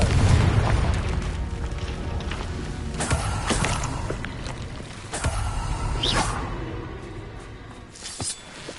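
Loud, repeated explosive booms of the Confringo blast spell in the Hogwarts Legacy video game, with whooshing bursts and crackling impacts following one another over a rumbling battle din; no talking.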